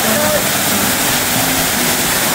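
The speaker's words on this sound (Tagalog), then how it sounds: "Ang lakas pala ng talsik ng tubig" Strong splashing water pours in a dense, loud, unbroken roar close by, steady from start to finish with faint voices beneath.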